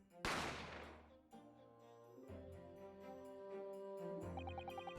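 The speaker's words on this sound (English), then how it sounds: "I didn't have time to think about where the sound of the gunshot had come from." A single sharp gunshot rings out early in the video game The Great Ace Attorney Chronicles, then decays into sustained musical tones that carry through the rest of the moment.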